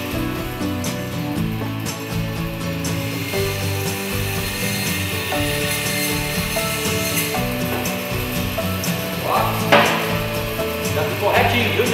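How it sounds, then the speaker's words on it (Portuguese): Butcher's band saw cutting through beef marrow bone, a steady loud mechanical whine with rasping, grinding bone-cutting texture running throughout and a few sharper scraping bursts near the end. "Presta bem atenção na serra agora"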